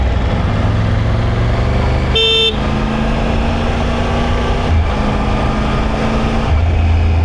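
A weak, scooter-like horn on a three-cylinder inline motorcycle during a test ride. A single brief toot rises over the steady rumble of the engine and the road, and then the bike keeps riding.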